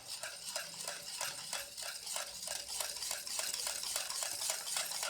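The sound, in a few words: whisking ice cream mixture with vanilla essence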